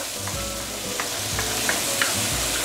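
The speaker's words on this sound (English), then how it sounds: "Put in the tomato and some of the curry leaves. Give it a few stir." Tomato and curry leaves sauté in a hot pan for a tiger grouper fish head curry, a constant close sizzle broken by a few rhythmic stirring scrapes.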